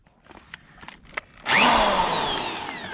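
A few faint clicks and taps, then a power drill whirs up suddenly and loudly during lawn mower repair, its motor pitch sliding slowly downward as it keeps spinning.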